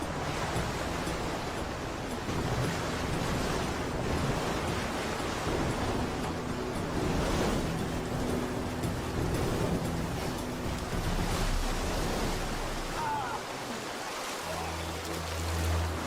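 Water rushes steadily over sharp bedrock in a shallow, falling river in the wild, a dense continuous roar close by, with a low rumble surging near the end.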